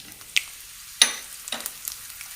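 Mustard seeds, leftover cumin and dried red chillies hit hot coconut oil in a pan, giving sharp sizzling bursts and scattered pops and crackles, loud and close, with quiet gaps between.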